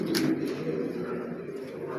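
Racer pigeons, young birds kept for sale, coo softly and steadily close by against a continuous low background hum.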